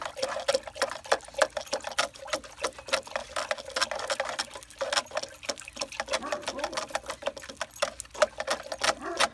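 Liquid plant food is stirred into water inside a watering can, giving a busy run of quick splashing, sloshing and clinking pulses that carries on nonstop at close range.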